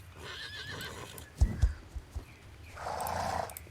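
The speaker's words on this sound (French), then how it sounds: "D'où il sort ce cheval?" A horse in a video game gives a couple of sharp whinnies followed by a few clip-clopping hoofbeats, fairly close, with game ambience rising afterward and no talk over it.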